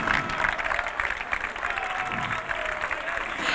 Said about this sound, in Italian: Dai, partiamo con un applauso.